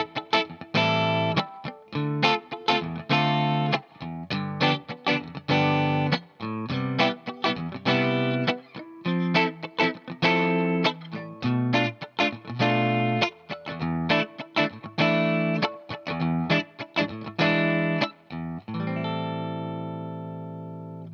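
Electric guitar strummed at full tempo through a chord progression, with crisp rhythmic chord hits in a steady pattern, then a final chord left ringing out alone.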